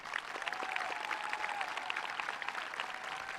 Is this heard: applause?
yes